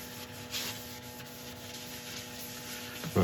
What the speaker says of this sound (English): This is just isopropyl alcohol I'm just rubbing on just to clean out the grooves